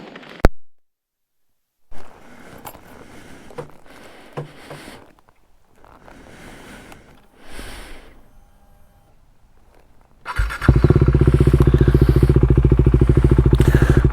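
A KTM 390 Duke single-cylinder engine kicks in on a test ride after scattered handling noises and quiet gaps, ending in a loud, close, steady engine drone.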